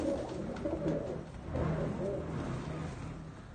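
Pigeons of mixed breeds coo in low repeated phrases nearby, a few overlapping calls with faint background noise.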